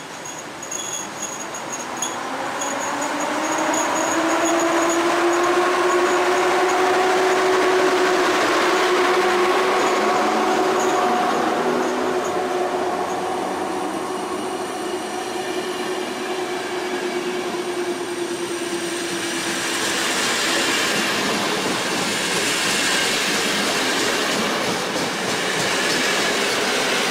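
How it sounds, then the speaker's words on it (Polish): A PKP Intercity passenger train rolls past on the rails in Poland, a loud sustained roar with a rising whine and a faint wheel squeal that builds, then swells again into a broad rushing noise near the end. No voices are heard. "spóźniony pociąg Intercity"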